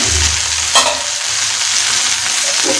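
Ivy gourd stir-fry crackles and hisses in a pan as it is stirred, a steady close sizzle with a spatula scrape near the start and no voices.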